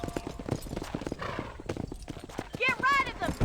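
Horse hooves clip-clop in a quick rhythm in the Red Dead Redemption video game while someone talks over them; a horse whinnies near the end.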